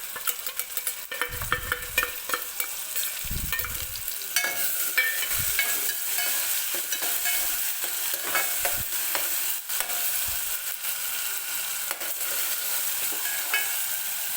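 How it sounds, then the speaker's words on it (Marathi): Ginger-garlic paste and green masala paste frying with browned onions for a spicy chicken sukka, a steady loud sizzle with repeated scraping stirs and clinks of a spoon against the pan, no voices. "तर आता मी याच्यामध्ये टाकणार आहे आलं लसणाची पेस्ट."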